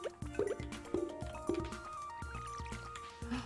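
Water pouring into a pet's bowl in the farming video game Stardew Valley, a run of bright, close digital drips and plops set over a steady tonal game-music bed.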